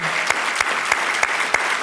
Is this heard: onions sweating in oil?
no